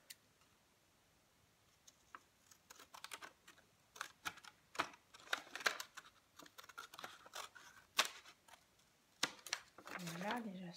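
Scissors cutting through paper card for a scrapbooking fold-over card, a series of close, crisp snips and rustles in irregular bursts, with a short continuous slicing stroke at the end.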